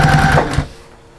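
A sewing machine stitches the seam of a trick-or-treat bag in a loud, steady whir that stops abruptly after about half a second, leaving only faint room hiss.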